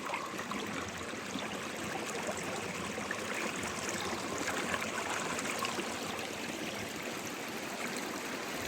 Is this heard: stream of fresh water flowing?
yes